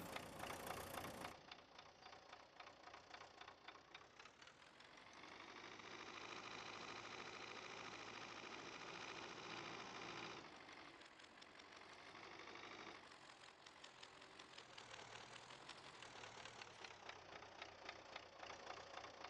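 A tractor with a trailer idles in the Farming Simulator 19 video game, giving a steady, droning engine hum with rhythmic knocking that shifts pitch slightly partway through. It is fairly quiet and has no talk over it.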